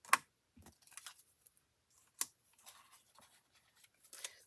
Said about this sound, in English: now I'm going to flip that around and I'm going to cut these pieces out